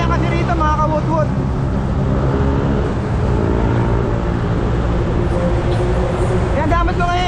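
Heavy road traffic on Sumulong Highway heard from a road bike: a loud, continuous rumble of car and bus engines close by, with someone talking over it.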